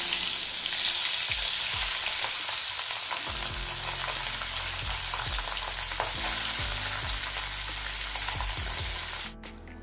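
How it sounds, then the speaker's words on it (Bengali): Tangra fish frying in a pan, a steady close hiss and sizzle of hot oil with repeated clinks and scrapes of a utensil stirring, no voices. "আর এই তো ট্যাংরা মাছগুলো আমার ভাজা হয়ে গেছে"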